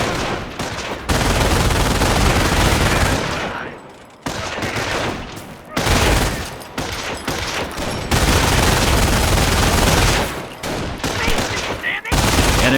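Squads in the strategy game Company of Heroes fire on an enemy patrol: loud, dense bursts of rifle and machine-gun fire in long volleys, separated by brief pauses.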